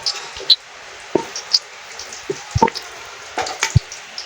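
Bay leaf, cinnamon, cloves and pepper frying in hot oil give sparse, sharp crackles and pops with light stirring scrapes, close by and fairly loud against a quiet background.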